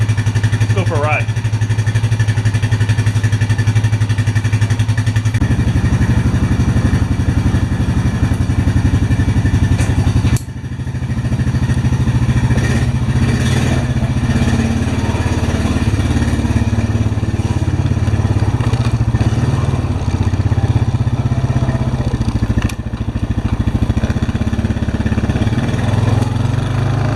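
Honda Rancher 420 ATV engine running steadily after an old cold start, idling a little unevenly while it settles on its fuel, loud and close, with people talking over it.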